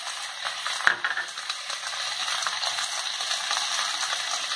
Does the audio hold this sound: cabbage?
yes